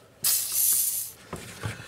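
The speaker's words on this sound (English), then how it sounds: "I've got some PV Blaster. We'll spray it on here." PB Blaster penetrating oil sprayed from an aerosol can onto a bolt on a first-generation Ram truck: a sharp, loud hiss lasting most of a second, followed by two shorter quieter spritzes.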